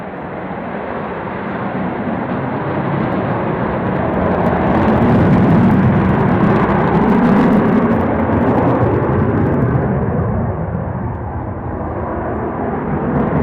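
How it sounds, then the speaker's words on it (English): B-2 version of a bomber airplane flying past at the Royal International Air Tattoo airshow, a loud sustained engine roar that swells toward the middle and eases off, heard without talk. "This particular airplane was the first B-2 version of the bomber"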